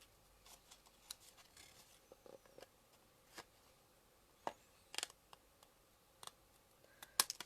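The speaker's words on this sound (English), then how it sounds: "I'm just using my scissors against the edge of the card to keep it nice and straight and accurate" Scissors snipping the edges of a handmade card, a sparse series of faint, sharp clicks and cuts spaced irregularly, close and quiet with no talking.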